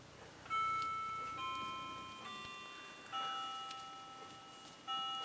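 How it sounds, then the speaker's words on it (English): An old clock inherited from grandparents ticks softly, with a few clear chiming strikes that ring out and slowly decay over the steady background. "every time I make a video you can always hear my clock"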